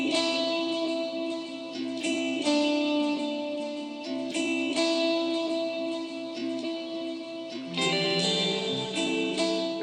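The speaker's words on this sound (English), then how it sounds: "And then the guitars sound like" Sampled electric guitars, pitch-shifted with Flex Pitch in Logic and slightly out of key, ring out as sustained, layered chords. They shift to new pitches every couple of seconds, with no voices.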